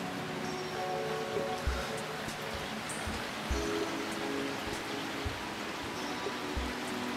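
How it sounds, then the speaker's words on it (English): Steady rain patters outside, a soft continuous hiss with occasional low thumps, no talking. "It just started raining outside."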